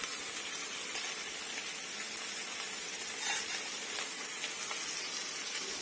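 Onions frying with a pinch of salt in a pan for Shahi Paneer, giving a steady, even sizzle and hiss throughout, fairly close, with one brief louder flare midway and no voices.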